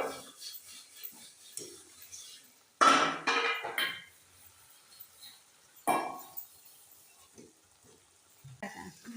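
A pan of cooked spring onion and peanut vegetable is flipped using the lid, making a few sharp clattering scrapes and knocks of metal separated by quiet gaps.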